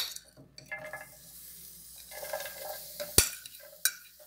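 Four cloves of garlic and one onion stirred in oil saved from a sardine can, with a soft sizzle and spoon scraping; two sharp utensil clicks land near the end.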